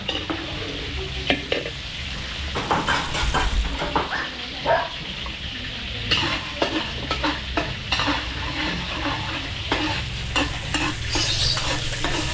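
Garlic and onion sizzle in butter in a pan for kaldereta at fiesta catering, with repeated scraping stirs and utensil clinks close up.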